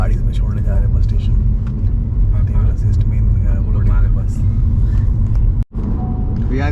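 A car carries passengers along the road to a bus station in Laos, its engine and tyres making a steady, close low rumble inside the cabin throughout, with a brief dip near the end.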